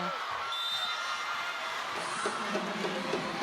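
Crowd at a PVL volleyball semifinal, Creamline versus Chery Tiggo, filling an indoor arena with sustained cheering and shouts, broad and roaring throughout with a commentator faintly underneath.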